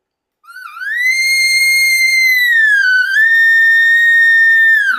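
An elk bugle call produced with a rolled tongue: a single loud, sustained whistling tone that sweeps upward, dips and rolls over, then climbs back and holds before dropping off at the end, heard alone.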